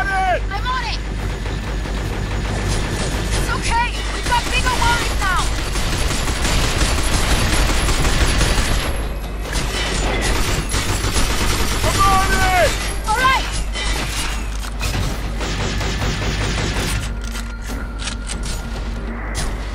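Gunfire in the third-person shooter Binary Domain, with sustained rapid automatic bursts and heavy booms running throughout, layered over game music and character voices.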